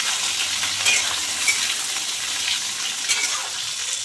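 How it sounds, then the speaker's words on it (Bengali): Potato pieces frying in a pan, a continuous close crackling sizzle with a few sharp stirring scrapes, no talking. "এই আলুগুলো দিয়ে ভেজে নেব ভালো করে।"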